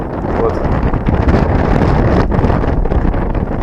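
Loud gusting wind at a carp and crucian carp fishing spot buffets the microphone in a continuous rough rumble, broken by brief thumps and rustling.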